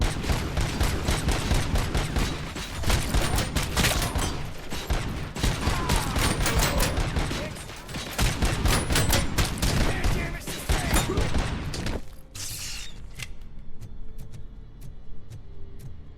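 Rapid bursts of automatic gunfire and shots fill a RoboCop Rogue City video game firefight, loud and dense with sharp repeated cracks, then cut off to a quieter stretch with a few isolated ticks near the end.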